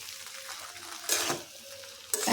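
Kasuri methi being stirred into a frying cauliflower singhara filling in a pan, with a steady close sizzle and two bursts of louder scraping stirs; no talking.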